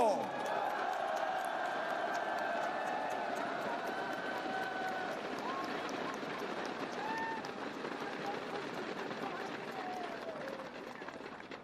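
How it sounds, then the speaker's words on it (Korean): A large crowd at a Korean political rally roars and cheers to encourage the city mayors, a steady dense wash of shouting and clapping that holds at an even level for many seconds. "여러분, 이 시장님들을 위해서 여러분의 뜨거운 함성으로 격려해 주십시오"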